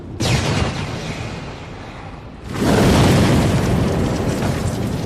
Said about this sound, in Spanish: Unos segundos después hubo otra tremenda explosión cuando nos alcanzó el segundo torpedo.